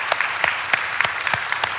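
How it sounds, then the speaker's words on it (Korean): Church congregation clapping to encourage workers during a Sunday worship service, a short burst of loud, close, distinct handclaps in an uneven rhythm. "수고하신 분들을 위해서 한번 우리 박수로 한번 격려하고"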